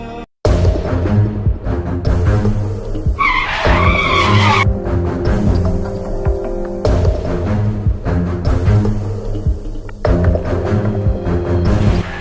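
A car skids hard to a sudden stop, nearly hitting a person, with a loud, sustained tire screech that rises over a continuous rumble of engine and background music-like noise.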